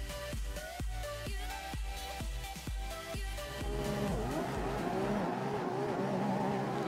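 Race car from the Red Car Pack in the Assetto Corsa racing game, loud engine revving hard through rapid gear shifts, then a sustained high-revving roar with tire squeal and skidding, no talking.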